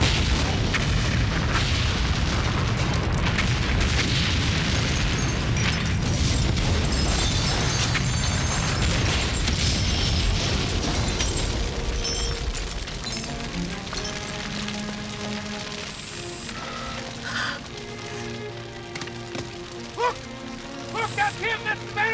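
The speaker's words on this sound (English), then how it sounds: "It is a bomb." A bomb explosion in a crime drama scene: a long, loud rumbling blast with dense low roar and debris-like crackle for about twelve seconds, fading into quieter tonal music and scattered pops.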